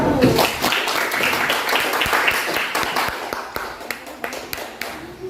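Classroom group clapping for a student group about to present, a loud burst of many hands that thins into scattered, sharper individual claps as it dies away.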